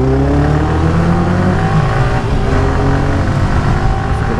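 A loud Yamaha R15 V3 motorcycle engine roars steadily, rising and falling slightly as it revs, close and continuous with no voices.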